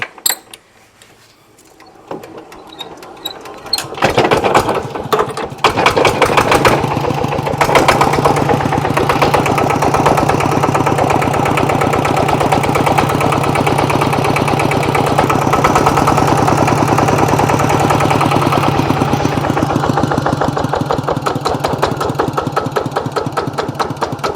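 A used Kubota RT110 walking tractor engine comes to life after a few seconds of quieter mechanical noise, then runs loud and close at a steady, rapid thumping idle to the end.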